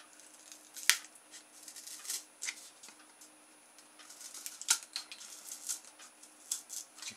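Scissors snip in a series of small sharp clicks and crisp cuts, irregularly spaced and fairly quiet, close by with no talking.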